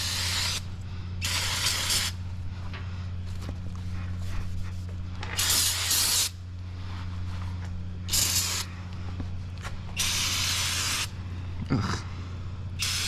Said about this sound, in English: let's blast it with some brake clean.